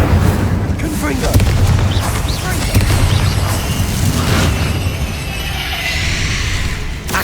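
Confringo and Incendio spell blasts in Hogwarts Legacy combat, loud booming bursts and fiery whooshes layered in a dense, continuous barrage with game sound effects throughout.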